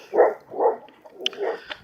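The landlord's dogs bark on a farm near hens, a few mid-pitched woofs in a loose rhythm with sharper yips and scattered noises mixed in.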